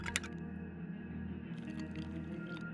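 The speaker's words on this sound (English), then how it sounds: "Let me go ahead and eat some wet dog food." Eating wet dog food in The Long Dark survival game: a short wet squishing and chewing sound, fairly quiet, over a low steady ambient drone, no talk.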